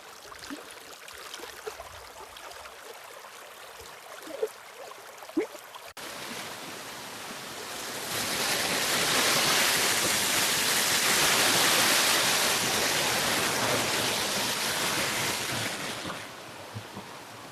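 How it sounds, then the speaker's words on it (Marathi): River water flows near a village well on a rainy monsoon day, a steady broadband rush that swells louder midway and holds, after a quieter stretch of faint outdoor ambience with a couple of soft knocks. "नदीचा आवाज बघा काय येतोय"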